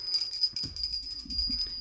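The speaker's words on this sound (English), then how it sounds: "My sister gave me this little gold bell that we use for the blessings." A small gold bell used for sound cleansing rings with a bright, high, sustained shimmer that lingers throughout, over faint low rustling and handling noise nearby.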